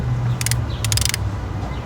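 A wrench ratchets on the 15 mm bolts of an upper torque motor mount on a Honda Accord 1.5T, giving two quick bursts of clicking over a steady low background hum.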